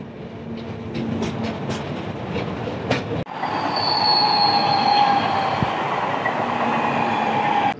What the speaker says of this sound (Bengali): হয়তো কোনো ট্রেন পাস হবে, ট্রেনটা পাস হলে তারপর আমাদের ট্রেনটা ছাড়বে